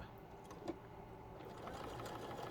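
A sewing machine basting a knit band onto a bralette runs in a steady, close mechanical whir with a small knock early on and no talking.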